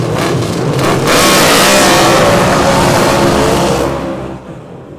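Superstock cars at a New Zealand speedway roar loudly as the field gets underway, a thick wall of engine noise swelling and revving before easing off near the end, with no talk over it.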